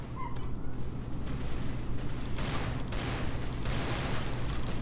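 Desert Eagle gunfire in the shooter game CS:GO, a dense burst of shots and battle noise with no talking.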